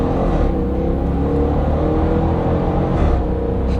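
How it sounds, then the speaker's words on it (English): A 2021 Dodge Durango R/T engine and exhaust rumble loudly from close by, with a deep, steady growl and brief bursts as gears shift under acceleration. "Oh, do you hear that engine?"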